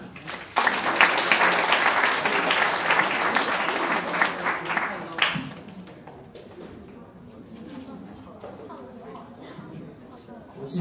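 Audience applause after a karaoke song at a 2014 church karaoke contest: loud, dense clapping for about five seconds, then it fades into quieter crowd murmur and room noise.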